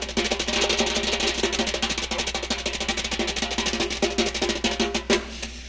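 Drums played to mimic Bunny Briggs' rapid, low tap dancing, a dense run of quick strokes with crisp cymbal-like accents, steady and close for several seconds with no talking.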